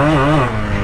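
A Yamaha RX100 motorcycle engine hums with a steady, loud two-stroke beat and a slight rise and settle in pitch, heard up close with no talk over it.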